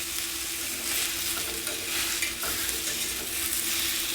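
Banana pieces shallow-fry in a pan while being flipped over, a close, steady crackling sizzle overlaid with stirring and spatula movement sounds, continuous with small swells and no talking.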